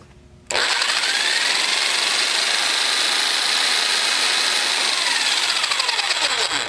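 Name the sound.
motor firing up and running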